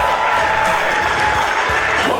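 Wrestling crowd at an NWA Texas Style Wrestling show in Forney, Texas cheering Teddy Long's entrance, a steady roar of cheers and whoops under a continuous tone and mixed voices.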